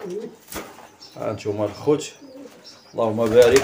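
Pigeons coo softly nearby while someone talks over them, the low throaty calls rising clearest toward the end.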